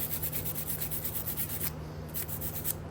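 Brush scrubbing rust off a Kia Optima or Hyundai Sonata rear brake caliper bracket, a steady rapid back-and-forth rasping stroke that is close and continuous, briefly easing near the end, with no talk.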